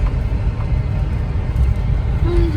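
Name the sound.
road traffic jam in Rishikesh during pilgrimage season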